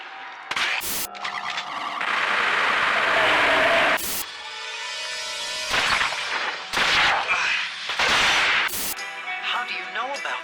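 Sharp gunshots crack out in a burst of gunfire within The Darkness II video game on PS3, loud and abrupt, scattered among chaotic game effects and a voice calling out.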